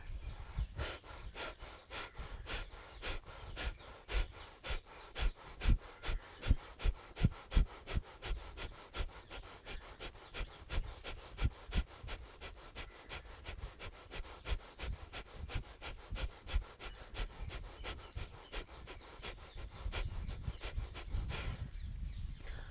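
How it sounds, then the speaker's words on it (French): Rapid Kapalabhati yoga breathing, a long run of quick, forceful nasal exhalations in a steady pulsing rhythm, close and clear, slowing briefly near the end with no talking. "vous pouvez expirer un petit peu plus rapidement, inspirer aussi de la même façon, accélérer dans votre mouvement"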